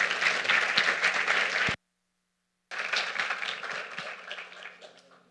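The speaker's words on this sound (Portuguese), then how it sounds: "Então, uma salva de palmas para o Lorival." An audience claps at a conference talk, with dense, loud applause cut off by a brief silent gap, then resuming and gradually thinning out.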